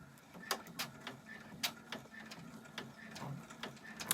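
Sewing machine stitching an embroidery design, a quiet run of irregular mechanical clicks and taps with a faint motor hum underneath, close by and fairly soft.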